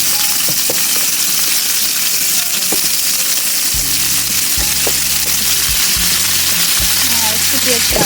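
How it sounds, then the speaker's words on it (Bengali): Onions fry in a pan for a salmon curry, a loud continuous sizzle with occasional spoon scrapes, while a low humming tone switches on and off in the background, no voices. "প্রথমে আমি কিছু পেঁয়াজ দিয়ে নিলাম।"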